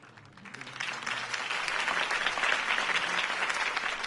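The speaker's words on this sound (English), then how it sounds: "If only Mr. Wayne, my campaign's largest backer, could have heard that applause" Crowd applauding a political campaign speech by Harvey Dent in a video game, a dense swell of clapping and cheering that builds over the first second, then holds steady and full at moderate loudness.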